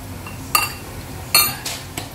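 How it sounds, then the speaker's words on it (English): A metal utensil stirs chicken biryani in a pot, giving a few sharp clinks and scrapes against the pot at irregular intervals over a quiet background. "so I'm going to mix the biryani up"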